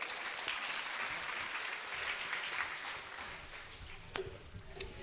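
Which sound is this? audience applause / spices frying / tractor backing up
audience applause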